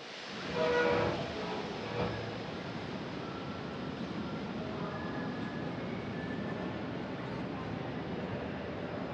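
A train rumbles at a railway station in East Germany: a low, steady, fairly faint rolling drone that holds throughout, with a slightly louder swell near the start.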